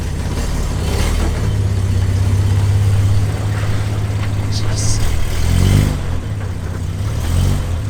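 An engine in a 20-year-old Ford AU Falcon with a limited-slip differential runs and revs up close, a steady drone swelling and dipping over several seconds, with faint voices in the background.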